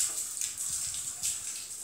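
Water sloshes and trickles from a bucket being drawn up out of a well, a faint, close splashing with soft drips and no speech.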